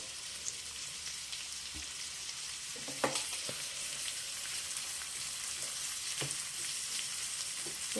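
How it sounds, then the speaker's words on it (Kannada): Onions fry in a pan with a steady, close sizzle and crackle, broken by a few sharp clicks and scrapes of stirring. "ಎಲ್ಲ ಒಂದೇ ಥರ ಹಾಕಿ ಚೆನ್ನಾಗಿ ಫ್ರೈ ಮಾಡಿಕೊಂಡ್ರೆ ಆಯಿತು"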